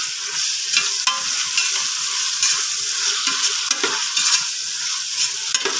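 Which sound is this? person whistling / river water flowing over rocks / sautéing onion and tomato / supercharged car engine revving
sautéing onion and tomato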